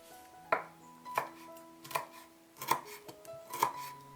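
A knife minces tightly rolled kaffir lime leaves on a cutting board, giving about six crisp, evenly spaced chops up close with no talking.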